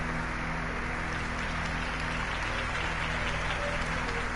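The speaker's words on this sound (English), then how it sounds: "could have heard that applause" Steady, dense applause from a large crowd in a Batman video game, a continuous wash of clapping that stays loud and even throughout.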